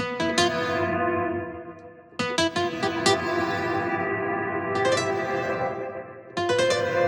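Sustained synth tones from the Liminal Space 2 haunted digital reverb synth, long smeared tails hanging between sharp bright attacks that recur at intervals and decay into shimmering, echoing washes.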